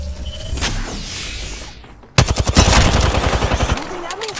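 Gunfire in the game Apex Legends: after a quieter opening, a loud burst of rapid automatic shots breaks out halfway through and keeps rattling close up to the end.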